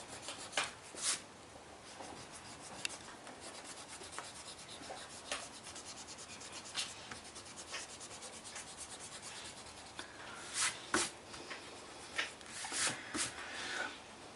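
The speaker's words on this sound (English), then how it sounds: "by rubbing out, you can see the bits that you have missed out" An eraser rubs out a pencil drawing in quick, dry scrubbing strokes, soft and close, with brief brighter bursts of rubbing scattered over about fourteen seconds and no talking.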